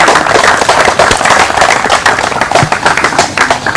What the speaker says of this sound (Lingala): Nous pouvons applaudir très très fort.